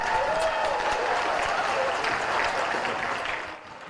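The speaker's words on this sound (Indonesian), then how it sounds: "disambut riuh tepuk tangan peserta rapat paripurna yang dilangsungkan Selasa pagi" Members at a parliament plenary session break into loud, sustained applause, a dense continuous patter of many clapping hands that tapers off near the end.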